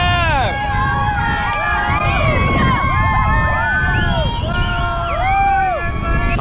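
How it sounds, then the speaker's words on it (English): Kids and families lining a RAGBRAI route cheer on passing cyclists, a dense, loud crowd of high children's shouts and whoops, steady throughout with overlapping voices. "the kids are out here cheering us on"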